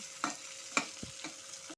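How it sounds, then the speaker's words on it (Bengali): Crabs are tossed with fried vegetables in a pan for a Bengali crab dish, with a few sharp spoon scrapes and light sizzling over about two seconds, close and fairly quiet. "এখন আমি কাঁকড়াগুলো দিয়ে দেবো এখন আমি সমস্ত কিছুর সাথে সবজিগুলোর সাথে ভালো করে মিশিয়ে নেব"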